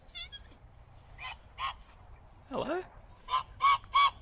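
Geese honk at Lake Guyatt in a series of loud nasal calls, a single honk followed by paired and tripled honks, close by, while a person briefly speaks.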